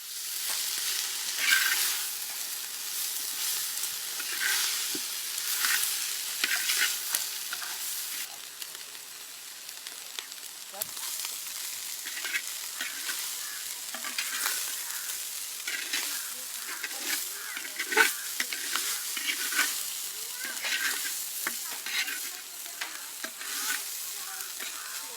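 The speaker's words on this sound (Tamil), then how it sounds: "கருவாடு அடி பிடிக்காம இருக்க மிதமான சூட்டுல கிண்டிக்கிட்டே இருக்கலாம்" Dried fish (karuvadu) stirred while frying in oil in a pan over medium heat, a soft continuous sizzle broken by repeated scraping and stirring strokes, fairly quiet and close, with no talk.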